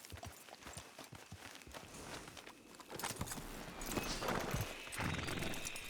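Horse hooves clop at a walking pace in the video game Red Dead Redemption Online, irregular thuds growing louder and busier toward the end amid some ambient noise.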